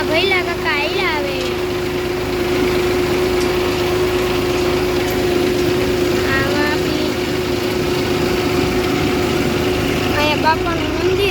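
A tractor engine running steadily at a constant hum, close and loud throughout, with voices talking over it.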